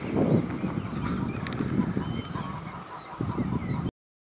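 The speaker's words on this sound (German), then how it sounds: "Die Frösche werdet ihr wahrscheinlich nicht hören, aber zumindest die Gänse." Geese honk repeatedly outdoors at Steinhuder Meer lake over a steady wash of ambient noise, with several calls overlapping at a moderate distance.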